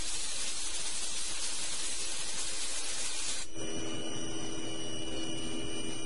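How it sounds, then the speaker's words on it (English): A CNC mill finish-machines a small pocket in a high-speed toolpath, making a steady broadband cutting hiss. Partway through, the sound changes to a tonal whine with distinct pitched lines, continuous and close. "Now this is the small pocket being finished machined."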